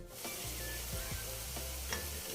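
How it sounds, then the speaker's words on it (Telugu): Ginger garlic paste fries in hot oil while cooking a spicy boti fry, a steady close sizzle with a few soft stirring scrapes from a spoon in the pan. "ఇలా అల్లం వెల్లుల్లి పేస్ట్ వేసుకొని ఈ ఆయిల్లో పచ్చివాసన పొయ్యేంత వరకు ఫ్రై చేసుకోవాలి"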